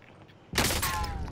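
Gunfire in a first-person shooter game, a sudden loud volley bursting in after a quiet moment and ringing out with a metallic whine and echo.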